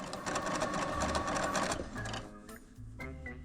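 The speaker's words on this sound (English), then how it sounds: "I just started sewing with the pins on the wrong side." Sewing machine stitching fabric for plus size pants, a fast steady whirring rattle that runs continuously, then slows into short stop-and-start bursts, close and moderately loud.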